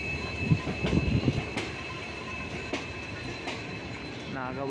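Ajanta Express rolls along the rails with faint clicks and rumbling wheel noise, a steady tonal whine riding on top and a brief squeal near the end, moderately quiet and without talk.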